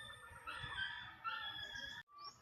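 Hens and a rooster in a small backyard coop call close by. A drawn-out crow rises over scattered clucking, then cuts off briefly before the birds start again.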